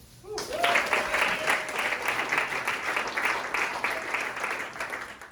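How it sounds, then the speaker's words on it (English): An audience at an educator academy event breaks into applause, a dense burst of clapping that starts abruptly and holds steady for several seconds, with a brief voice at the start. "Can we please give another round of applause?"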